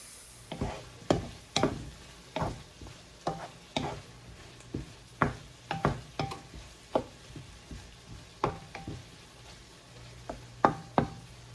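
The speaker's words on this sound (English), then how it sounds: "I just sauteed the onions and I added the pre-cooked ham that I had in the freezer" Onions and pre-cooked ham being sautéed in a pan, heard as a steady run of close, sharp utensil scrapes and taps against the pan over a faint sizzle, with no talking.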